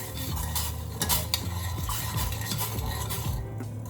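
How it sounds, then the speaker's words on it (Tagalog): A vinegar mixture for sushi rice being stirred in a pot until dissolved: repeated scraping and clinking of a utensil against the pan over a low steady hum, with brief louder knocks. "So, haluin lang natin siya hanggang sa matunaw."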